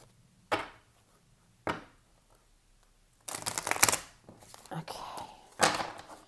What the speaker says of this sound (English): And give them another riffle shuffle.